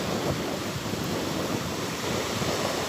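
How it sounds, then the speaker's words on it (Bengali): Sea waves roll in on the shore at Mousumi Island as a loud, steady, broadband roar mixed with heavy wind buffeting on the microphone. "দেখো এই এই ঢেউটা আসছে"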